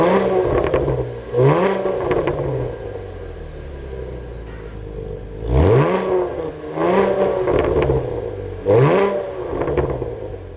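A 2020 Chevrolet Camaro 1LT RedLine Edition engine cranks and fires up, then is revved several times in a row. Each loud, rising blip settles back to a steady idle rumble, heard close and with no voices.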